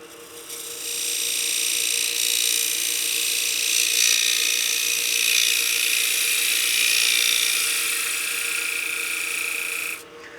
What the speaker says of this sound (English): we can go in there with a gouge and go and try and clean this up